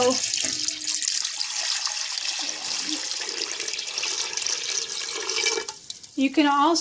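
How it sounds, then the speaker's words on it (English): Water pours steadily into a pot holding lentils and tomato paste, a broad rushing splash lasting several seconds, with a person speaking briefly at the end. "then we're going to add 3 cups of water"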